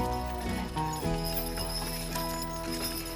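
Heavy hooves of draft horses clip-clop steadily on hard ground at a field day in Texas, a continuous loud rhythm of several horses walking with a low mechanical hum underneath.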